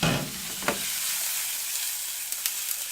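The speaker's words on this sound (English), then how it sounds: "I'm going to saute them." Vegetables sautéing in a frying pan make a bright, continuous sizzle close up, with a few sharp stirring knocks and scrapes scattered through and no voices.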